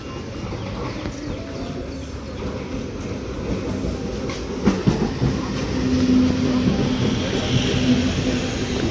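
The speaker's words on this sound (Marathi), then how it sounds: "चला ट्रेनचा प्रवास करूया." A Diva–Roha passenger train runs along the tracks, a steady rumbling roll with rattling wagons and a few sharp clanks midway, growing slightly louder toward the end, with no one speaking.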